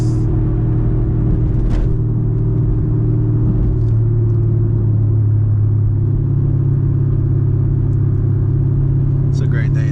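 Low, steady engine rumble from a manual 900-horsepower Camaro ZL1 cruising at sunset, holding a constant drone throughout with slight swells and faint background noise, no clear revving bursts.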